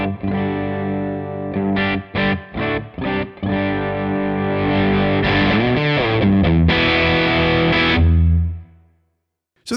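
An electric guitar plays through a Bad Cat Cub V amp captured in ToneX at the fifth gain level. It opens with a few choppy distorted chords, moves into sustained crunchy ringing notes, and ends with a long chord decaying to silence.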